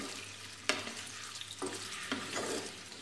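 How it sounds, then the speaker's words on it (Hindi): Paneer frying in a little oil in a kadai, a steady close sizzle broken by a few sharp crackles and spatters as the pieces are stirred, with no talking. "उसी कढ़ाई में हमने तेल डाल दिया थोड़ा सा, अब इसमें हम पनीर को फ्राई कर लेंगे।"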